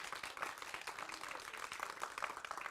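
An audience at a final presentation event for a Korean IoT software training course gives a brief round of applause. The clapping is faint and distant but steady, with no voices over it.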